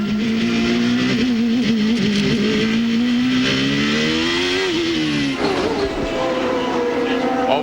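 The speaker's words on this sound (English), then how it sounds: "Listen to the gears." An IndyCar race car's engine screams loud and close, rising in pitch, then dropping sharply on a gear shift before climbing again.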